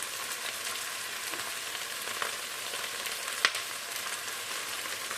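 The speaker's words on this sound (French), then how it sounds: "Donc, je verse le vin blanc." White wine poured into a hot pan for a turkey osso buco, hissing in a steady, close, even sizzle with one sharp tick near the end and no talking.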